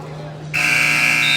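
An end-of-period buzzer at a wrestling match cuts in abruptly after a brief quiet lead-in and blares loud and steady until the end.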